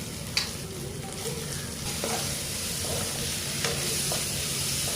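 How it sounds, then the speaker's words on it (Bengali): Chopped tomato fries with onion and ginger-garlic paste in a pan, giving a steady close sizzle broken by a few sharp stirring scrapes. "এবার টমেটো কুচি দিয়ে দেবো"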